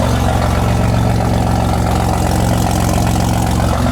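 A BMW G80 M3 with a catless downpipe and 4-inch exhaust idles loud and throaty close by with a steady, pulsing rumble and no voices.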